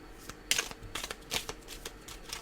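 Tarot cards being shuffled by hand on a table, a string of soft papery riffles and flicks with a sharper burst near the start, close and fairly quiet with no voices.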